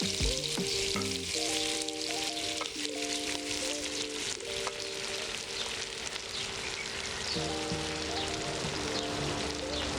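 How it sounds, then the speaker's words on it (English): Leeks sizzling and frying steadily in melted butter in a soup pot, a continuous close hiss with a tonal hum running underneath, no one speaking. "Once the butter is melted, it's time to add in your leek."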